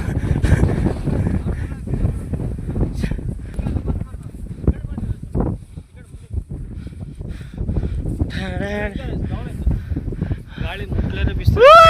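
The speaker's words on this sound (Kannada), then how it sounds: "ಈ ಸಖತ್ತ ಗಾಳಿ ತುಂಬ ಇದೆ" Strong gusty wind on a hilltop at Tumati Hills, Ballari, buffets the microphone in loud rumbling bursts while people talk over it.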